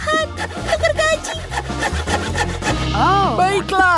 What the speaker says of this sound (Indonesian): aku gergaji